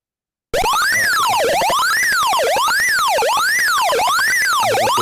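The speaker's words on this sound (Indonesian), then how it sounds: "akan menyalakan sirine" A loud electronic siren triggered by a temperature and smoke sensor wails in a fast, repeating up-and-down cycle, sounding close and continuous after a brief silence at the start.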